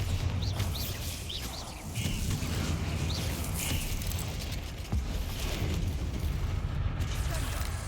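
Bombarda explosion spells bursting in the Hogwarts Legacy video game, a dense, continuous rumble of booming blasts with sharp pops layered throughout and no clear gaps between them.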